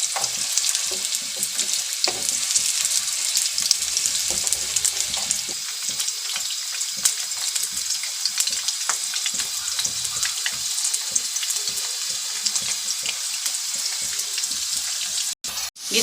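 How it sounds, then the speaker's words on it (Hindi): Potatoes frying in oil in a karahi, a steady dense sizzle and crackle throughout with scattered pops, close and fairly loud, ending in a brief dropout. "पाँच मिनट तक इसको फ्राई करेंगे, आलूओं का कलर थोड़ा सा चेंज हो जाए"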